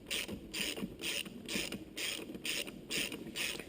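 A ring spanner tightening a nut on a long-threaded bolt of a Honda CRF70/CRF50 motor, a steady rhythmic ratcheting clicking in repeated bursts, close and fairly quiet.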